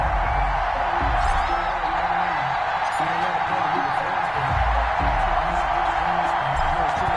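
Stadium crowd noise in an EA Sports NFL video game between the New Orleans Saints and Arizona Cardinals, a steady dense roar of cheering fans with a commentator's voice talking over it.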